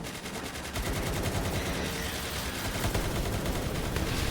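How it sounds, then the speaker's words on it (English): Lasers hitting turrets in the Palworld game: a dense, loud, continuous rattle of rapid-fire impacts, steady and unbroken for several seconds. "How fast can they laser one of these turrets?"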